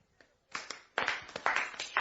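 A small studio audience applauds Queen Penelope in a radio comedy play, a brief patter of clapping that starts faint and swells into a moderate spattering burst over about two seconds.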